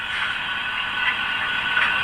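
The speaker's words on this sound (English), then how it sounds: "Function 8 is coupling, uncoupling." DCC sound effect from an OO gauge Rapido 15xx pannier tank model locomotive coupling and uncoupling, a brief metallic clanking and ratcheting, fairly close and moderately loud, with a faint steady hiss behind it.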